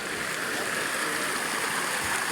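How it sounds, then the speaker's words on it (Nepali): A waterfall in a forest near Shimla, Himachal Pradesh, at night gives a steady, even wash of falling water, a constant hiss without breaks, moderately loud and heard alone. "यहाँनिर तपाईँहरूले वाटरफल देख्न सक्नुहुन्छ है।"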